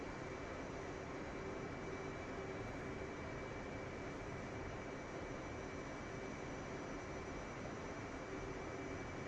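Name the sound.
F/A-18 jet engine in video game DCS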